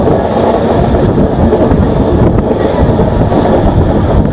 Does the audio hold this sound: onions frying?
no